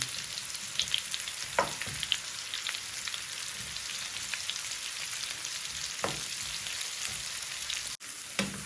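Onions frying in melted butter in a pan, a steady close sizzle with a few faint clinks and stirring scrapes, no voices.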